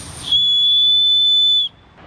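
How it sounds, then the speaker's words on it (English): Survival kit whistle on a multi-function camping tool, blown once in a single shrill, steady blast lasting about a second and a half, close and loud. "The set also includes a whistle"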